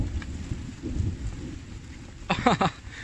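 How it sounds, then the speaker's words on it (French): Low rumbling thunder rolls beneath steady rain, heard from inside an outdoor survival shelter at night, with a brief louder crackle near the end. "vous entendez l'orage aussi je pense"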